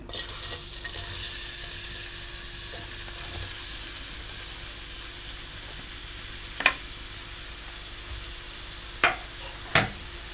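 Onions frying in oil in a pan for an aloo tinda masala curry, giving a steady low sizzle with a few sharp stirring scrapes near the end. No one speaks.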